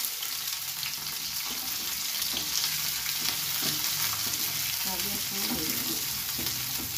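Capsicum and tomato frying in a pan with steady sizzling and occasional stirring clinks, a continuous close hiss throughout with no voices.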